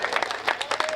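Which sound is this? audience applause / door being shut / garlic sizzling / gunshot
audience applause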